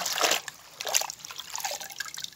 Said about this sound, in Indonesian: kita masukkan teman-teman kita kocok ya teman-teman biar bersih